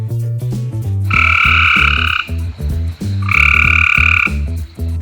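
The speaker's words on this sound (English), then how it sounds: "Frog." Frogs croak in two loud, buzzing bursts, each lasting about a second, set over a bouncy background music track.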